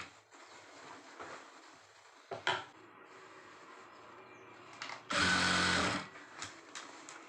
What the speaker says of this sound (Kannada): ನಾನು ಕರೆಕ್ಟಾಗಿ 1/2 ಇಂಚಿಗಿಲ್ಗೆ ಹೊಲಿಗೆ ಹಾಕ್ಕೊಳ್ತಾ ಹೋಗ್ತೀನಿ